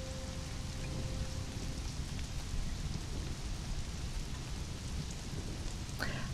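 Rain pours steadily in the Conan Exiles game during a thunderstorm, a dense hiss with low rumbling, and a sharp crack of thunder near the end.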